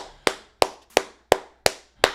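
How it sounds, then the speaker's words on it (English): Six crisp, evenly spaced hand claps from one nearby person, loud and deliberate, celebrating Travis Hunter as the 2024 Heisman Trophy winner; no one speaks. "Nice round of applause for Mr."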